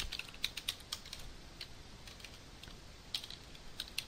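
Light, rapid clicking of keys on a computer keyboard, a short run of typing heard close but fairly quiet, with no voices.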